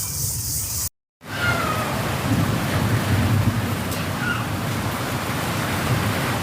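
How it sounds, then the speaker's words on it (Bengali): Heavy rain with falling hail pours down in a dense, steady hiss with a low rumble beneath it; a brief silent cut interrupts the start, and no one speaks. "প্রচুর জোরে বৃষ্টি আসছে আর বরফ পড়তেছিল"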